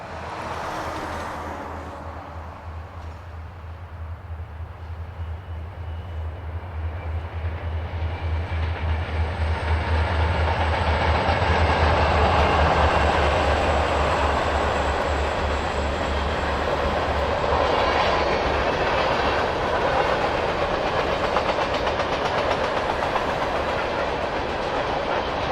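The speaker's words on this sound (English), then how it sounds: "we catch train Q393 as it hustles west behind two leased units" CSX freight train Q393 hustling west behind two leased locomotives on a cloudy November day in northwest Indiana, with a deep engine rumble giving way to loud, sustained rolling wagon noise and rhythmic wheel clatter, close by.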